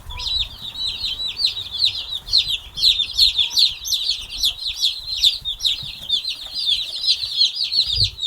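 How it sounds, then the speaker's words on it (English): A dense, continuous chorus of high peeping from a brood of 51 fuzzy meat bird chicks, close by and steady throughout, with no voices. "51 happy, healthy meat birds. Fuzzy little things."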